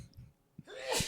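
A single sharp human sneeze bursts out near the end, close and loud, preceded by a short sniff or intake of breath and quiet room murmur.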